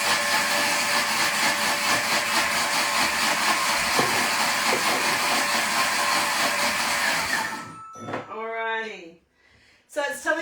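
A Thermomix TM6 whirs steadily and loudly for several seconds while quickly mixing a sauce, then cuts off abruptly, followed by someone speaking close by.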